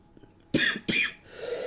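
A person gives two sharp, close coughs in quick succession, followed by a brief rough exhalation, with faint background noise between them.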